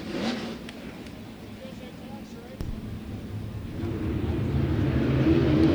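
World of Outlaws sprint car engines roar back up to speed at a green-flag restart at Thunderbowl Speedway after a caution, a dense rising drone that grows steadily louder beneath a commentator's voice.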